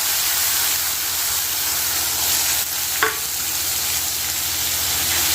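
Onions and tomatoes fry with green chillies and curry leaves in a pan for a pepper chicken dish, a steady close sizzle and hiss that continues throughout, with one brief stirring scrape midway.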